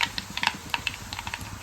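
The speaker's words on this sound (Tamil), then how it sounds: "என்ன கடுகு இப்ப வெடிக்குது?" Mustard seeds crackle and pop in hot oil in a frying pan while fish curry is tempered, producing quick, irregular sharp clicks close by.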